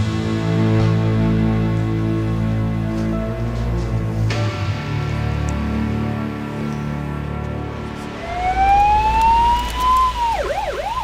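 A low engine drone fills the first part, then a wailing ambulance siren rises in and sweeps up and down loudly near the end.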